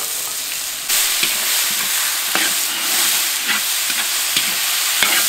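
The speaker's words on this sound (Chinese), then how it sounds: "然后把牛肉放进去炒一下" Beef is stir-fried with Pixian broad bean paste in a wok, setting off a loud, hissing sizzle that jumps up about a second in and stays strong, with sharp clicks and scrapes of a spatula at intervals.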